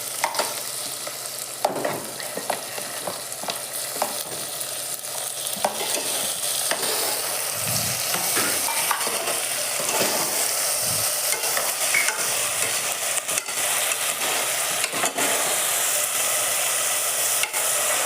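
Chopped tomato stirred in a hot frying pan while cooking kichadi, a steady close sizzle and frying crackle with repeated scraping stir strokes and occasional clacks of the spoon throughout.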